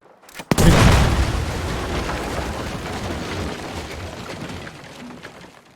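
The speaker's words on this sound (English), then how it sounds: "I'm going to blow up a few buildings in Battlefield 5 with dynamite" Dynamite blast destroying a building in the video game Battlefield 5: a sudden loud boom, then a long rumbling roar of debris that slowly fades.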